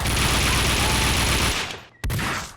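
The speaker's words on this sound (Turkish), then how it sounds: "Abi bu kurşunlar nereden geliyor ya?" A dense burst of rapid gunfire from the video game Max Payne 2 hammers loudly for about a second and a half, fades briefly, then picks up again in a short, sharp follow-up volley.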